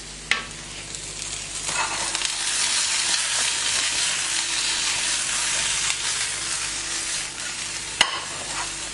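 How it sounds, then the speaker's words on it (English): Zucchini sautéing in a pan with thyme and garlic, a steady close sizzle and hiss of frying with occasional stirring scrapes and a couple of sharp clicks, loud and continuous without speech. "I've just got some zucchini here, or courgette, which I'm also sautéing with a bit of thyme and a bit of garlic"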